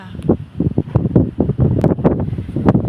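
Strong wind gusting outdoors in Sikhio, Thailand, after a dark rainy sky, roaring in uneven bursts close to the microphone with rustling and buffeting throughout.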